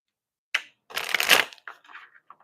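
Tarot cards are shuffled up close: a quick riffle, then a longer burst of rustling and flicking, followed by a few softer taps and slides as the deck settles.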